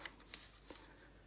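Scissors snipping through folded paper, a few soft, quick cuts heard close but faint in a quiet room.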